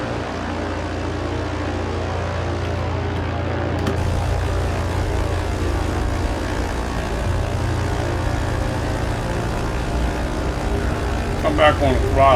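The propeller engines of a Britten Norman BN-2 Islander in Microsoft Flight Simulator give a loud, continuous droning hum that holds steady throughout, with a slight rise as the throttle changes.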